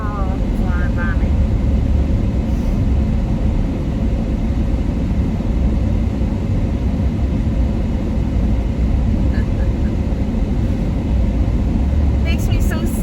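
Steady, loud road rumble of cars driving past on a street, a continuous whooshing traffic wash with no distinct break, heard from inside a stopped vehicle.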